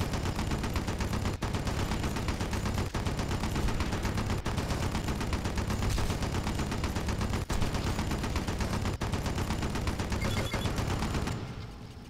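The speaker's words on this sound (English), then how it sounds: "You may now resume firing." Sustained enemy gunfire in the video game Red Faction 2, a dense, loud, continuous barrage of rapid shots with brief periodic breaks, running almost without pause before cutting off at the very end.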